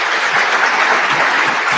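An audience applauds in a close, dense wash of clapping that stays steady and fairly loud for just under two seconds, with no talking over it.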